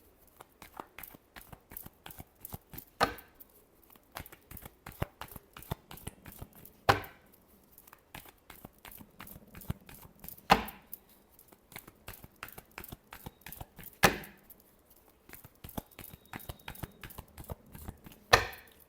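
Tarot cards being shuffled by hand, close and fairly soft: a continuous rapid flutter of card edges broken every few seconds by a sharper riffle or tap. No one speaks.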